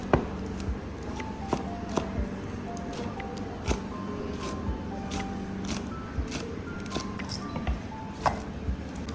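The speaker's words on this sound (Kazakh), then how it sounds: "Ащы бұрыштың осындай жасыл және қызыл түсінен жарты-жартыдан алып, жіңішке ұзын етіп тураймыз." Knife chopping green and red chili peppers into thin strips on a cutting board, a steady series of sharp taps close up, with faint background music.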